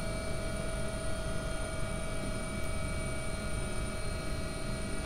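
Simulated AW-139 rotor and engines in X-Plane 11 on a London air ambulance approach, a constant heavy drone with steady high whine tones held evenly and close for the whole stretch, no talking.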